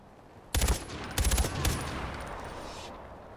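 Gunfire from a gun in the video game Far Cry 4 arrives in two loud rapid bursts followed by a single shot, each with a booming low end, then tails off into a lingering echo.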